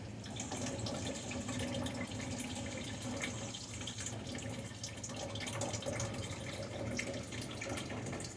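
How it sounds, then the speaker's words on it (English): Juice drains from an opened can for lemon pepper chicken, a steady, quiet trickle and splash of liquid that runs without a break and with no talking. "I'm going to drain the juice."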